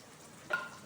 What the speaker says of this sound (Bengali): এইবার ওতে এই যে পেঁয়াজ কুচোনো দিয়ে দিচ্ছি